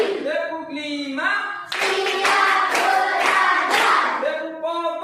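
Classroom hand clapping for the Tepuk Fokus game, a loud burst of rapid claps in the middle, set between stretches of chanting voices.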